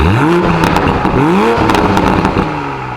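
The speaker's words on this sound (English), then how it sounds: "Exhaust sounds the same." A 2020 Toyota Supra engine revs up repeatedly in rising bursts, loud and close, with crackles and pops from the exhaust between pulls.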